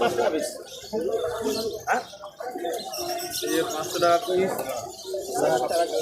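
Pigeons coo and gargle at the crowded Birnagar pigeon market, their calls blending with nearby talk and market chatter, fairly loud and continuous.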